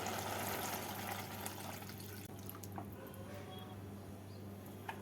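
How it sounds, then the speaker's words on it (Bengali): Water pours into a pot of bottle gourd curry, a faint, soft splashing trickle that fades to quiet bubbling and light clinks over a few seconds, with no talk. "এবারে দিয়ে দেবো এর মধ্যে পরিমাণ মতো জল"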